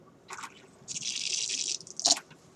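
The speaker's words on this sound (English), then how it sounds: "So I'll turn on cold water." Cold tap water hisses through a condenser hose in a lab sink setup, coming in short bursts with a longer steady spray in the middle, close and fairly loud.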